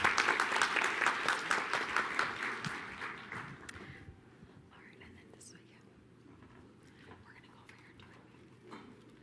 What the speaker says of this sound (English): Please, again, a round of applause and thanks to this panel.